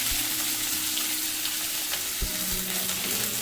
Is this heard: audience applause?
no